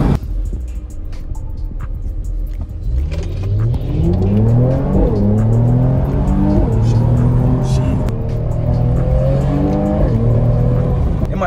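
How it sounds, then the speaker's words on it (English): A heavily modified car with a resonator delete drones loudly from about three seconds in, its exhaust pitch rising and falling through repeated gear pulls at low speed, with a person talking over it. "My car has a whole lot of mods on it, so it's like super loud."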